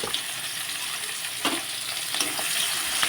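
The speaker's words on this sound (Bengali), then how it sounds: "এখন কিন্তু আমি পেঁয়াজ দিয়ে দিচ্ছি যা তেল ছিল সেই তেলের মধ্যেই কিন্তু এখন পেঁয়াজগুলো সব দিয়ে দিলাম" Sliced onions sizzle and crackle in leftover oil from frying fish, a steady close hiss with occasional stirring scrapes and pops.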